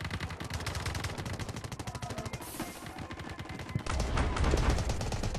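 Rapid automatic gunfire rattles in dense, continuous bursts during Delta Force combat, overlapping shots at varying distances building into a heavier, louder barrage toward the end, with no talking.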